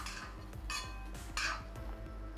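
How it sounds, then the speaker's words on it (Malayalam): Ivy gourd stir-fry with masala and oil stirred in a pan on low flame, with repeated metallic scrapes and clinks of a utensil against the pan in a steady rhythm, close and fairly quiet, no talking. "ഇനി നമുക്ക് നല്ലപോലെ ഒന്ന് ഇളക്കി റെഡിയാക്കാം. ലോ ഫ്ലെയിമിൽ തന്നെ ഇട്ട് ഇളക്കി എടുക്കണം."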